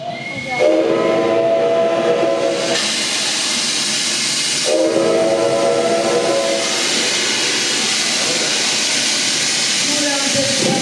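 A steam train drawing near, with loud hissing steam and sustained whistle blasts that recur amid continuous rumbling rail noise.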